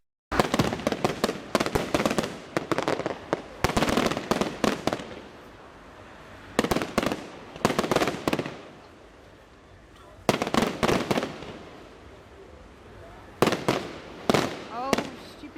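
Fireworks exploding outdoors, filmed on a Canon PowerShot SX40 HS, in several loud clusters of sharp bangs and crackles separated by brief quieter gaps with faint background noise.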